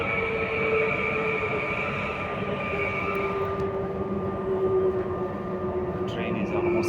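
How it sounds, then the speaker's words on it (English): A Paris suburban train rides between stations, giving a steady rolling rumble with a sustained motor whine that shifts pitch partway through, and a few brief higher clicks and squeaks near the end. "The train is almost empty because it's almost vacation time."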